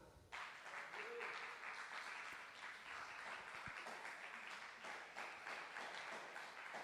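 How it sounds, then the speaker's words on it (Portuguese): A church congregation applauds during a Portuguese-language service, a steady, even patter of many hands clapping at moderate distance, starting abruptly and continuing throughout with faint voices beneath. "Quer dar um aplauso ao Senhor?"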